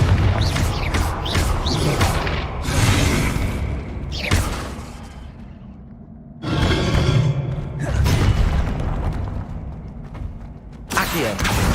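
Confringo blasting spells exploding in Hogwarts Legacy on PS5, several loud bursts with crashing, whooshing tails separated by brief lulls, mixed with other spell sounds.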